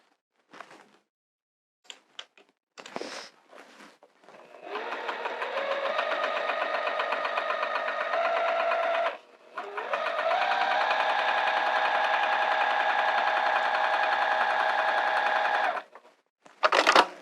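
A sewing machine stitches quilting vinyl in two long, steady runs of loud mechanical whirring with a brief pause between them, preceded and followed by a few short clicks and handling sounds.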